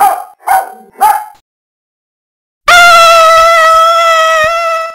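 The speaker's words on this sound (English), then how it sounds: "Attack dog?" A dog gives three sharp, close yapping barks in quick succession, followed after a pause by a loud, long, steady high-pitched tone.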